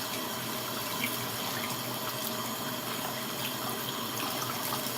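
Tap water runs steadily into a sink for a long stretch while waiting for it to get hot, a constant broadband hiss and splash at close range with no talking.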